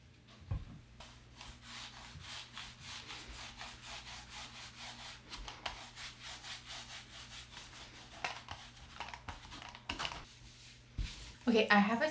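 A sponge dabs and rubs gloss varnish over an acrylic painting in quiet, repeated soft strokes, with a few sharper knocks near the end.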